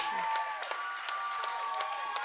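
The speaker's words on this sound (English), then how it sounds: "Crowd going wild." A crowd at a trampwall competition claps and cheers in a sustained wash of applause, with scattered sharper claps and whoops rising out of it for a couple of seconds.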